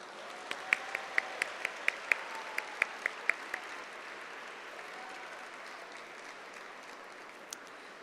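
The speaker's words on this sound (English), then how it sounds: "Let's give them another round of applause." Guests at a welcome reception in Busan applaud after a performance, a steady rush of crowd clapping with a run of sharp, closer individual claps early on, easing slightly toward the end.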